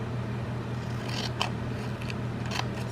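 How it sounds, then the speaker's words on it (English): Scissors snip through card stock in a few quick, close cuts, each a short crisp rasp over a quiet room hum. "you can either trace it or cut it with the scissors or a paper trimmer"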